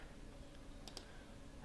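Two quick, faint clicks of computer keyboard keys pressed in close succession while drafting in Revit architectural software, over a quiet room hum.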